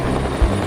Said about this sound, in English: A British Navy helicopter arrives with the spare parts for Toowoomba's chopper